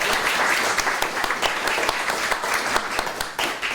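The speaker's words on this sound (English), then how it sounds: "let's give him a round of applause" Audience applause at a film producer's master class, dense steady clapping from a crowd filling the clip with scattered sharper claps.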